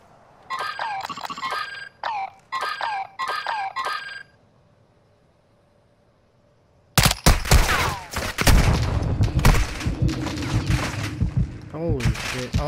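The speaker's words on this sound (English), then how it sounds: "all them AIs shooting at me" Bursts of automatic gunfire from AI enemies in Call of Duty: Modern Warfare II rattle in quick volleys, pause into near silence, then return as a dense, loud barrage of shots and impacts.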